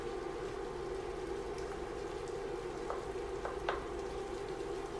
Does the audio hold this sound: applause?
no